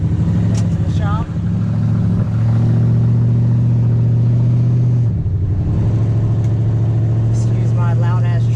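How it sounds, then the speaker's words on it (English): A Toyota Tundra pickup running open headers with its catalytic converters stolen gives a loud, steady, deep exhaust rumble through the whole stretch, with voices talking over it. "Excuse my loud ass truck"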